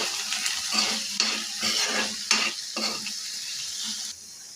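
An ivy gourd chutney mixture with tamarind is stirred in a pan, giving a sizzle with rhythmic scraping strokes about once a second that stop near the end.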